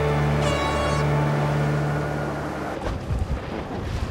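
Start signal for a Farr 30 sailboat race on the water at the Rolex Big Boat Series: one loud, sustained horn-like blast lasting a couple of seconds over wind noise, then fading into gusty rumble.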